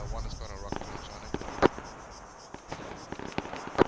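A video-game IED detonates inside a building: two sharp, heavy bangs stand out against a steady, muffled battle background, with faint lighter cracks scattered between them.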